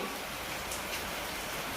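Steady rain falls outdoors, a continuous soft hiss of drops on surfaces at moderate level, with no voices.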